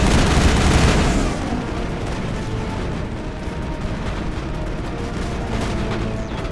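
Enemy gunfire in Mass Effect aboard a derelict freighter forms a dense, continuous barrage of shots and impacts, loudest at the start and steady to the end with no speech.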